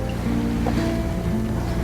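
Steady wash of waves and water rushing against a moving sailboat on Lake Vänern, with a constant low rumble and wind, no talking.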